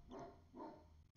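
A dog barking from outside the room, two muffled, distant barks in quick succession, faint and dull.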